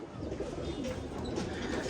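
A brief stretch of pigeons cooing nearby, low murmuring calls blending into one another at modest volume, without speech.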